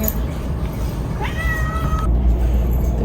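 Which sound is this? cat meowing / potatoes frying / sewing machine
cat meowing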